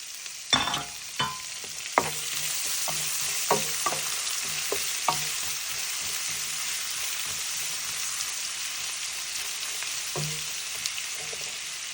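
Garlic and ginger hit hot oil with roasted coconut in a pan and sizzle steadily, with a string of sharp spatula clicks and stirring knocks early on, then a fainter ongoing fry.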